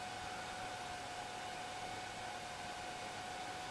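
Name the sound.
cooling fan in JBL car stereo head unit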